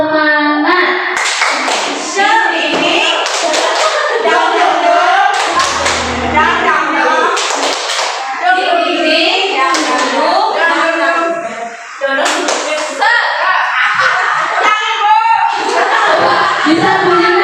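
Group spirit-clapping routine led in a primary classroom, grades 1 and 2, with teachers joining: rhythmic bursts of claps recurring across the passage, mixed with voices, children and an adult speaking and chanting throughout.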